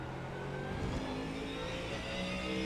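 A Ford Mustang GT3 race car accelerates out of a corner in second gear at The Bend circuit in iRacing, its engine note rising steadily as a sustained, moderately loud drone with no talking.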